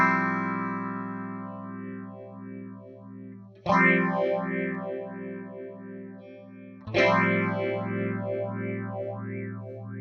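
A guitar runs through a Yerasov SCS PH-10 phaser pedal with no distortion, giving clean sustained chords with a sweeping, whooshing phase modulation that rises and falls, struck three times and left to ring out.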